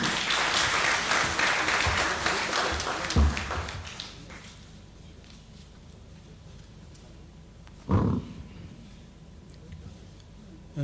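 Dense crowd applause at a closing address of a CIMA ministerial meeting fills the first few seconds, then fades into quiet room noise with a single sharp knock later.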